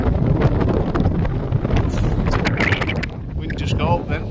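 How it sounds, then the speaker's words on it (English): Strong cold wind gusting on Askam beach near Dunnerholme in Cumbria, a loud, steady roar buffeting the microphone throughout, with a person talking faintly beneath it. "Wind just got up then."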